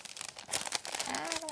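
Crinkling of the packaging of a Christmas gift from a happy-mail parcel, close and fairly quiet, a short dense rustle that builds slightly toward the end.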